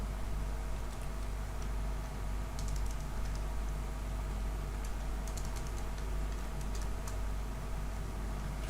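Keys on a computer keyboard are tapped in short, light bursts over a steady low hum, with small clusters of clicks separated by quiet gaps and no talking.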